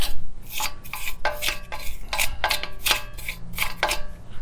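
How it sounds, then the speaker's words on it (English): Steady rasping scrubs clean a wheel hub on a Honda Element during a wheel and tire install, coming in rhythmic strokes of roughly one per half second, close and fairly loud, with no talking. "make sure that the hub and everything is nice and clean and cleaned up as much as possible here"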